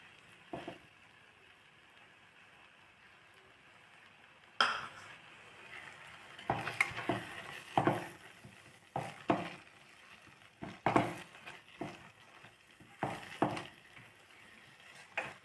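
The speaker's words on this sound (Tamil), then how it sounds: "இதை வந்து நல்லா கொஞ்சம் நேரம் மிக்ஸ் பண்ணி கொடுத்துட்டே இருக்கலாம்" Apple burfi mixture with desiccated coconut is stirred in a pan, giving intermittent scraping and clinking strokes of a spoon against the pan, fairly faint, after a quiet start.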